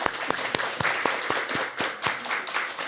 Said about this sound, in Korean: 우리 환영의 박수를.